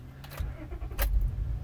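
A car engine cranks and starts after the key is turned back on in the ignition, with a brief jangle of keys before a short starting burst over the low engine rumble.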